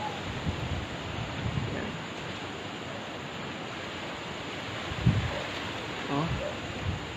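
Typhoon wind roars steadily around a residential community, a broad unbroken rush with a few gusts and thumps, while a person speaks briefly over it.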